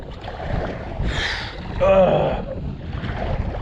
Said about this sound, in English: Oh Lord, this wind is awful, y'all, awful.